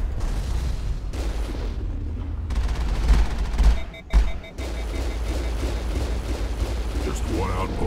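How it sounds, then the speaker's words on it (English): Gunfire in Mass Effect aimed at a Geth dropship, a loud continuous barrage of rapid shots and booms with a couple of brief breaks, mixed with game effects throughout. "Geth dropship has a health bar. I guess I'll just shoot at it."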